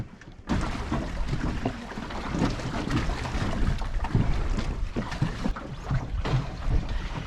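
A sailboat creeps slowly through the water after sailing off its anchor off Baja California, with a constant rush of wind and water, irregular splashes and gurgles close by, and no voices.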